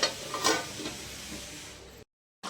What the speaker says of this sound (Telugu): యాడ్ చేసిన తర్వాత మంచిగా కలుపుకొని ఒక ఐదు నిమిషాల పాటు మగ్గనివ్వాలి